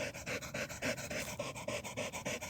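A dog pants hard and fast after a long walk through fields, close up, in quick rhythmic breaths that run steadily with no talking.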